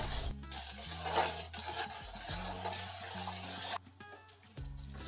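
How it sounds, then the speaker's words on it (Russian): Hot water poured over dry baking soda in a bowl and stirred, a steady liquid rush under a loud tonal music bed with brief breaks. "Залейте сухие ингредиенты горячей водой"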